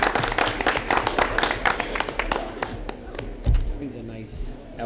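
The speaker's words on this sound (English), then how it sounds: "We'd like to give our outstanding students another round of applause" Applause at a school board of education meeting for outstanding students, a modest room of people clapping unevenly with voices talking over it and a thump partway through.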